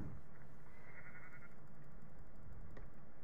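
Sheep bleating in the video game Minecraft, a single synthetic bleat heard near and moderately loud over a steady low background hum, with no talking.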